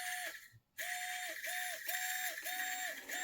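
Small electric motor of a micro RC crawler running at its third throttle setting, giving a high, steady whine close by, broken by a brief gap and then a run of repeated rising-and-falling pulses.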